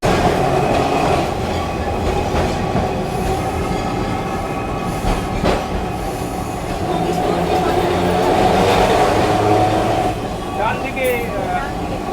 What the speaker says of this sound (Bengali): তার কারণ হচ্ছে অনেকটা জোরে ট্রাম চলছে